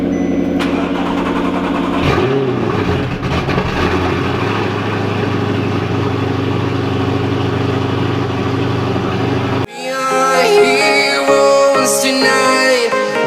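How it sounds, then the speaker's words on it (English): A 2009 Audi R8 with a straight pipe exhaust rumbles loud and close at a steady, throaty idle, with a brief rev blip early on, before the sound cuts abruptly to music. "2009 Audi R8 with straight pipe exhaust."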